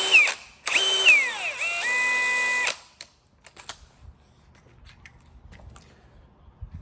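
A power drill spins a 2-inch sanding disk pad in two loud bursts of whirring with rising pitch, then stops, leaving faint clicks and handling noises.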